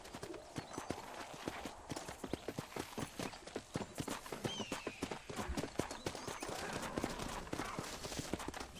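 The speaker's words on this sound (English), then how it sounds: "O cavalo tá assustado." A frightened horse in Red Dead Redemption clops its hooves in a quick irregular rhythm across the whole stretch, close and fairly faint, with a whinny mixed in.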